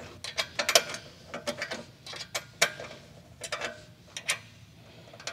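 Lock nut being snugged with a 10mm wrench and 4mm hex key on a Jeep Wrangler JL tailgate hinge, giving a close series of quick metallic clicks and ratcheting ticks in uneven bursts with no talking.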